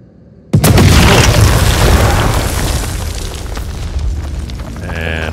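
A heavy explosive detonation in the video game House of Ashes erupts as a sudden loud boom, then a long rumbling roar that slowly fades, with a faint crackle and a brief voice near the end.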